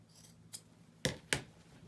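Scissors snip twice, sharp and close, cutting pieces off a men's shirt, with a faint rustle of fabric just before.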